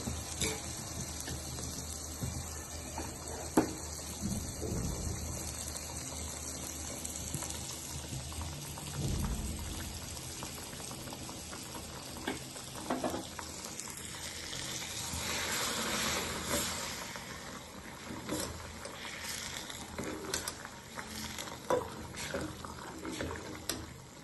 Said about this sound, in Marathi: फोडणी दिलेला जो तो आवाज येतो